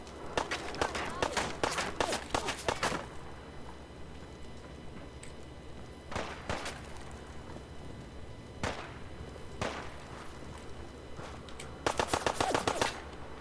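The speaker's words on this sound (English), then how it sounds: "Stop shooting at me." Gunfire in the video game Fallout 4: loud rapid bursts of automatic fire at the start and end, with scattered single shots between them over a low background hum.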